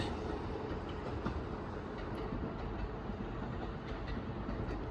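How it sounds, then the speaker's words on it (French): A metro train in Kyoto passes in a steady, continuous rumble with faint wheel clatter, heard at moderate distance with no voices throughout. "il y a le métro qui passe"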